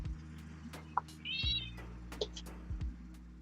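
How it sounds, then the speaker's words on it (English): A house cat meows a few times, soft high calls heard indoors at moderate distance over a low steady hum and occasional thumps. "I hear a kitty."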